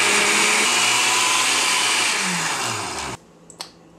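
A blender whirs loudly and steadily as it purees a tofu and cocoa powder pudding, then cuts off abruptly about three seconds in, leaving a quiet room with a couple of small clicks.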